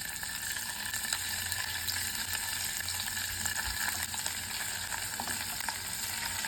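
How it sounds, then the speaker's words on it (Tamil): Paneer cubes fry in hot oil for a Hyderabadi paneer masala, giving a steady, close sizzle with a soft bubbling crackle that holds even throughout, with no talking. "ஃபஸ்ட்டு பன்னீரை வந்து பொரித்து எடுத்துக்கலாம்"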